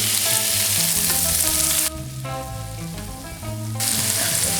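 Chopped onion frying in a hot pan over pan scrapings before jasmine rice goes in, a steady close sizzle with one quieter dip in the middle.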